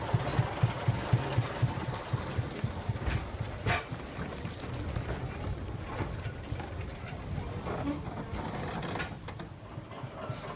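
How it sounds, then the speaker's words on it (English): A diesel shunter engine on a light railway idles with a low, steady rumble, with a few rhythmic knocks near the start and wind buffeting the microphone throughout. "All of the engines are diesel shunters with 2 coaches behind."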